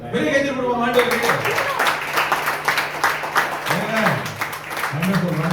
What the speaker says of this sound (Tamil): பெரிய கைத்தட்டல் கொடுப்போம் ஆண்டவருக்கு.